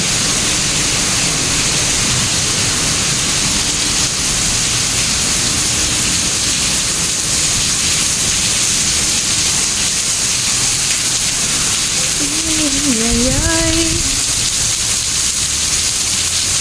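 Heavy rain in Singapore falls as a steady, close roar of broadband hiss throughout, with a brief exclaiming voice rising over it near the end.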